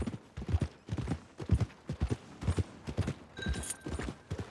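Horse hooves clip-clop on the ground near stables in Red Dead Redemption 2, a steady, close, rhythmic walking beat. A faint tone sounds briefly near the end, and no one talks.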